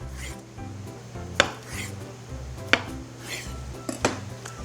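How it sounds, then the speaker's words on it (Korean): Knife slicing through a block of tofu on a cutting board, a few sharp knocks of the blade meeting the board at irregular intervals over a soft low background hum. "두부는 반으로 한번 가르고요, 그리고 널찍하게 품위 있게 썰어주세요."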